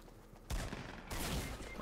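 Bursts of gunfire in the Fortnite Battle Royale teams-of-20 mode, two loud dense volleys back to back, filling the clip with no talk over them.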